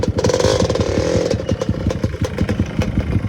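A Kawasaki KLX230 dirt bike engine braking on a downhill enduro trail: a close, rapid, chugging motorcycle engine with fast regular firing pulses and clatter, loud throughout.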